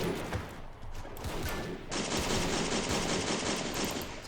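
Dense, continuous enemy machine-gun fire and rattling volleys pound a building in a WW1 battle game set in Belgium, loud and sustained, swelling sharply into a heavier barrage partway through.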